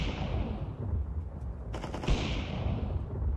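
Gunfire from a Valorant or CS2 match, a dense burst of rapid automatic shots crackling together near the middle, set against a steady rumbling in-game background and heard up close without voices.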